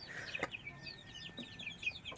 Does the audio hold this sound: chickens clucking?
yes